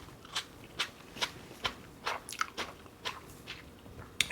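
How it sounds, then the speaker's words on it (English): Close crunching bites into pickled red onion slices, about ten crisp, sharp crunches in an uneven chewing rhythm, quiet and isolated with no talking. "you can hear there's still plenty of crunch, the perfect level of bite"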